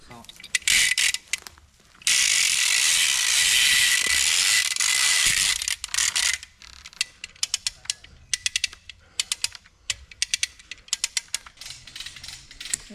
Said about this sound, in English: once we start winching on it, it'll break all those little branches